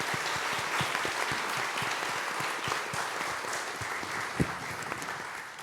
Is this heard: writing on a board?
no